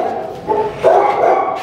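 A lively young female puppy gives a few short high yips and whiny barks close by, with a brief pause between two clustered bursts.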